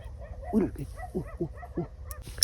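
Several dogs bark and yelp in a quick irregular series, a few sharp yips standing out over a low background rumble.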